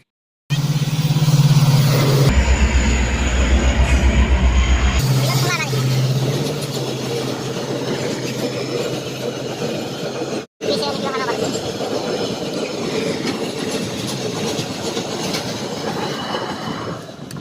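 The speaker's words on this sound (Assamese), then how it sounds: "এইহে ট্ৰেইন আহিছে" A train arrives at a railway crossing with a loud, close rumble of rolling wagons, rhythmic wheel clatter and squeals, while people talk nearby.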